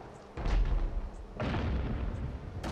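Ship-mounted mortars fire in the video game Abandon Ship, two heavy booming blasts with deep low rumble, each followed by a lingering roar, and a lighter pop near the end.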